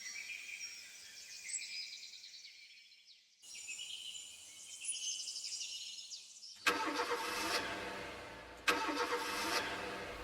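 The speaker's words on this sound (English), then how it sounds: "the car starting is fixed pitch" A car engine cranks and turns over, then the same starting sound repeats at different moments, each burst abrupt and fairly close.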